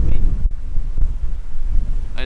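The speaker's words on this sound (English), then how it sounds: "It's bloody windy." Steady gusty wind roars and buffets the microphone in the Blue Mountains near Katoomba, a continuous low rushing noise with a few sharp knocks.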